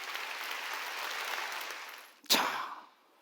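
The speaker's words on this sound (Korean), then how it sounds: "박수로 하나님께 영광을 돌려야죠" A church congregation at a Sunday worship service claps steadily for about two seconds. The clapping fades briefly, then a sharp loud burst follows and dies away quickly into quiet.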